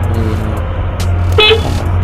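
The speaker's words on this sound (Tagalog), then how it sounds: "Ito yung tunog ng interrupter relay." A car horn wired through an installed interrupter relay sounds in short, loud pulses over a low engine rumble, close by and without speech.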